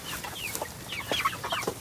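Meat chickens cluck softly at close range, short overlapping calls and chirps rising over a steady low hiss, with no voices present.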